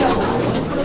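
Sabuj pigeons in a loft give close, loud, continuous throaty cooing, a dense warbling murmur with no clear pauses or voices.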